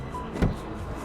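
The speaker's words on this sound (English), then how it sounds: "New sounds for car doors" A single car door thud from GTA 5 modded with NVE Sounds, part of Natural Vision Evolved, landing mid-clip as a short, solid knock over a low steady background hum.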